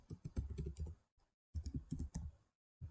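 Typing on a computer keyboard while entering text in Microsoft Word: two close, brisk runs of clattering keystrokes separated by a short silent pause.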